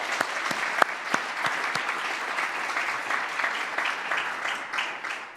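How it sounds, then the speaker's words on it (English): An audience applauds steadily at the Queens Public Library 2023 gala, a full room of clapping hands that stays even from start to finish. "Please give them all a round of applause."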